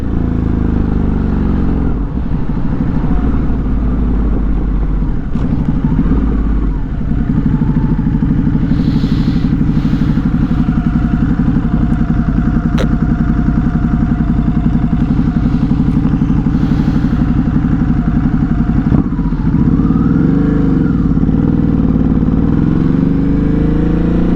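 A Ducati Hypermotard 950 RVE motorcycle rides on a highway, its engine a loud, constant low drone mixed with heavy wind roar that stays close and steady throughout, with no speech.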